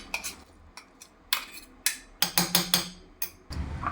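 Grated carrot being mixed into idli batter in a bowl, heard as irregular clinks and scrapes of a spoon against the bowl with short pauses between strokes.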